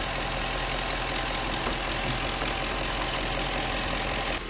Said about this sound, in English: Now is just let it idle